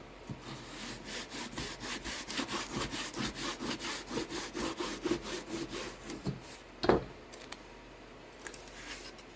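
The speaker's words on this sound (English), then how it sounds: "Probably should use a saw instead of a knife since we're going cross grain here." A hand saw cuts cross grain through wood for model airplane tail surfaces in quick, rhythmic back-and-forth strokes, close by, slowing and stopping near the end.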